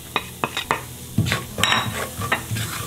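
Ground fennel, turmeric, cumin and coriander with asafoetida frying gently in a pan over low gas, with a soft steady sizzle broken by several sharp scrapes and clinks of a spoon stirring against the metal.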